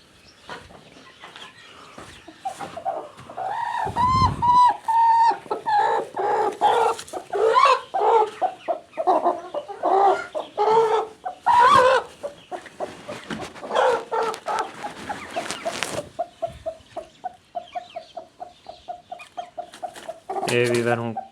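A hen sitting on eggs clucks and murmurs in repeated bursts close by, with broody calls rising and falling, while someone talks over part of it.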